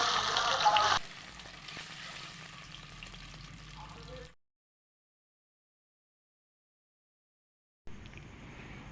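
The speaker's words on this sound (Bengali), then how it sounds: "এখন আমি দিয়ে দিচ্ছি ডিম, আর ডিমে আমি অল্প হলুদ মাখিয়ে নিয়েছি যাতে ডিম ভাজা তাড়াতাড়ি হয়ে যায়।" Turmeric-coated eggs fry in hot oil, giving a steady close sizzle that starts with a louder burst, then cuts out into silence before the frying sound returns.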